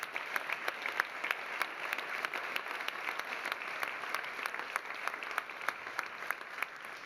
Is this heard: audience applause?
yes